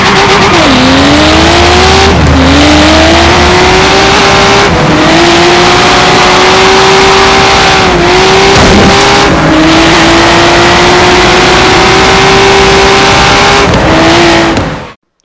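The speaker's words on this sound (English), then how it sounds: "So let's get the race started and just get to it." Race cars accelerating hard through a race, engines loud and close with rising and falling pitch as they shift and pass, a near-continuous roar with brief tire noise and no talk.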